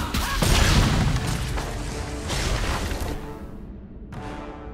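A grenade goes off in the video game Dragon Age II, a loud booming blast with crashing impacts and combat noise that gradually fades, then a sharp hit near the end.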